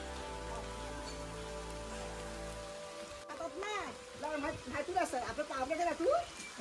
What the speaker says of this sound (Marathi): पाऊस आहे बारीक बारीक आणि घरा बरीचशी बंद आहेत